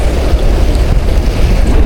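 Strong sea wind buffets the microphone while fishing from shore in Eastern Samar, Philippines, in a loud, close, continuous rumbling roar with churning surf beneath it.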